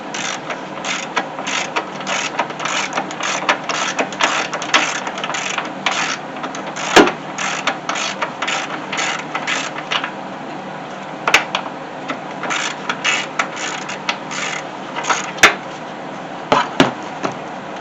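A 15mm socket wrench on a 2017 Dodge Journey ratchets steadily to loosen the negative battery terminal, a long run of close, rapid clicking strokes with occasional sharper metallic knocks and brief pauses.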